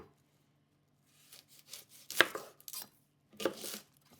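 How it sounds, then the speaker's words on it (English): A knife slices an onion thinly on a cutting board in a kitchen, giving a few close, crisp cuts with soft scraping in between and a sharp strike near the middle, then silence. "Try to slice onion as thin as possible."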